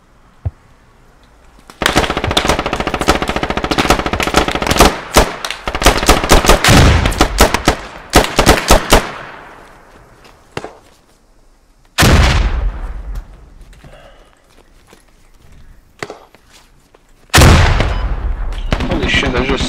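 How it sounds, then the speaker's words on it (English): Gunfire and grenade explosions in the video game Squad: long bursts of loud sustained automatic fire, then sharp blasts and booming explosions with decaying rumbles, close and intense. "they're just spamming grenades"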